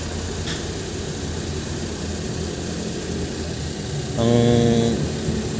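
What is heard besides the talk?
noisy engine of a Suzuki mini van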